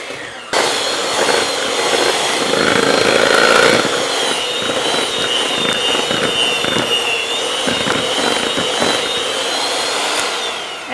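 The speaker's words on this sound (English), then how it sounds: "get my beater over here. We're going to cream this." An electric hand mixer creaming butter gives a steady, loud motor whine for about ten seconds, a close mechanical drone with beater rattle and no speech over it.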